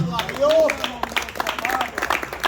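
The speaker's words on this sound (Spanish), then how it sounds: "Un aplauso al Señor." A church congregation claps for the Lord, scattered brisk clapping rising under a preacher's loud, impassioned speaking, with the two overlapping throughout the short stretch.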